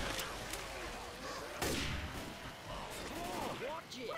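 Gunfire in Left 4 Dead 2 during the Swamp Fever campaign, scattered shots and a sharp loud blast, set among game noise with voices chattering underneath.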